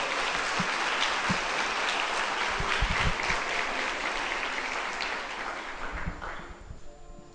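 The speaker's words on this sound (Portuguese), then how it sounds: "Aplaudam a palavra do Senhor, irmãos" A congregation at a Catholic prayer group in Potim applauds together, a full, sustained round of clapping with a few sharper hits, tapering off over the final seconds.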